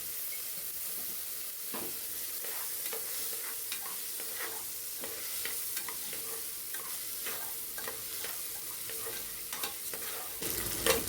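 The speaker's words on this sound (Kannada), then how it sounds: "ಇದಕ್ಕೆ ಒಂದೆರಡು ಸ್ಪೂನ್ ಅಷ್ಟು ತುಪ್ಪ ಹಾಕ್ಬಿಟ್ಟು ಚೆನ್ನಾಗಿ ಕೈ ಆಡ್ತಾ ಇದ್ದೀನಿ" Moong dal frying in ghee in a pan sizzles softly and steadily while a spoon stirs it, giving repeated scraping clicks against the pan at an irregular rhythm, close up with no voices.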